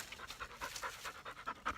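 A dog pants close by outdoors on a hunting trip, in quick, rhythmic breaths at a steady pace, quiet but distinct and alone without talk.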